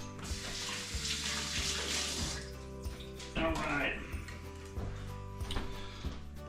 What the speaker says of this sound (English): I'm gonna go ahead and toss this in the sink for now